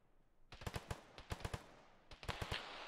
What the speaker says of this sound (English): I see people shooting, but I can't see them.